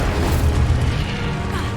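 Incendio fire spell cast in the Hogwarts Legacy game: a steady, loud whooshing roar of flame with a deep low rumble, sustained without break for the whole moment and no speech over it.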